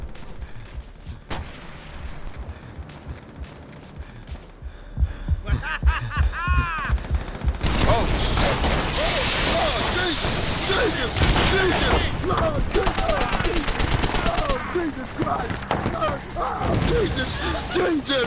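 Battle gunfire in Call of Duty: World at War, quiet for the first few seconds, then dense rapid shots and booms that stay loud to the end, with voices underneath.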